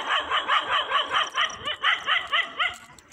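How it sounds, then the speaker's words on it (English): A dog barks repeatedly in quick, rhythmic bursts while out on a neighbourhood walk in Ghana, the loud yips and barks coming close and steady throughout with no talk over them. "Okay, you can stop barking now."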